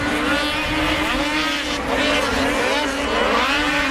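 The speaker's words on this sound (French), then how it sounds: "Dave Allard, le 167 passe devant lui, il est maintenant en 6e position." Ski-Doo snowmobiles race past at a grand prix, their high-revving engines droning and wavering continuously, loud and fairly close, with a race announcer talking over them.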